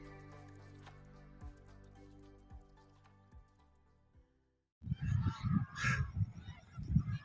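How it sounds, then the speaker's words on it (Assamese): At the Pohugarh bird sanctuary in Sivasagar, a dense flock of birds breaks into loud, overlapping honking calls after a quieter stretch of faint, dripping-like sounds. "কেৱল চৰাই চিৰিকটিৰ কোলাহল।"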